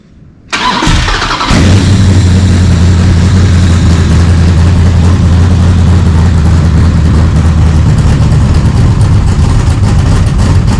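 A 5.7 Hemi engine, warmed up and being checked for low oil pressure, catches with a brief starter burst and then settles into a loud, close, steady idle with a constant low drone.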